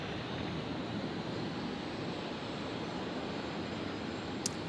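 A Virgin Australia jet on final approach to runway 19 left at Brisbane Airport on Christmas Eve night, a steady broadband roar of engines and rushing air holding level throughout, with no voices.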